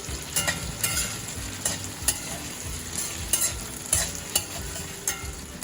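Potatoes fry in a pan with steady sizzling while a utensil stirs them, giving repeated scraping clatters at an uneven rhythm, close and moderately loud, with no talking.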